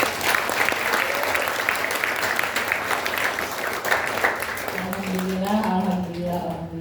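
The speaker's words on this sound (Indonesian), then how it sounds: "apresiasi atau tepuk tangan sekali lagi yang meriah" An audience at a talk show on classical Yogyakarta-style dance gives warm, sustained applause for several seconds, with a voice speaking over the clapping toward the end.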